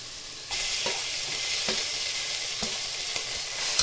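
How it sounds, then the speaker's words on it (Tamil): Onions and ginger garlic paste frying in hot oil for egg biryani, a steady close sizzle with a few soft stirring knocks and no talk. "வெங்காயம் நல்லா பொன்னிறமாக வதங்கினதுக்கப்புறம் நீங்கள் இஞ்சி பூண்டு பேஸ்ட்டையும்"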